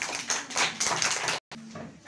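Children applaud a student in a Quran school classroom, a brisk burst of close clapping that stops abruptly for a moment and then resumes more softly.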